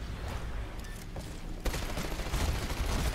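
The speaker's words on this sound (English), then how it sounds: "And we take him out with the pistol." Pistol fire in the video game Titanfall comes as a dense, close burst of sharp shots that swells sharply past the midpoint and stays loud to the end, with no talking.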